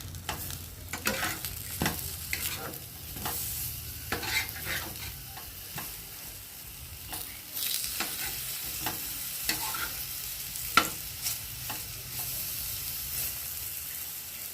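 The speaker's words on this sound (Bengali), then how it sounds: "আর এদিকে বেগুন ভাজা হচ্ছে," Eggplant slices fry in oil in a home kitchen pan, a steady low sizzle broken by frequent sharp clicks and scrapes as the slices are stirred and turned, with no talking.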